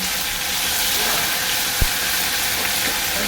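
Cumin sizzles in a hot pan, a steady bright hiss of frying spices, with a single sharp tap partway through.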